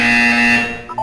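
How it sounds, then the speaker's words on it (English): Buzzer tone from the video game Portal 2, a single steady electronic buzz held loud for most of a second before cutting off, with no talking. "You will hear a buzzer. When you hear the buzzer, look up at the ceiling."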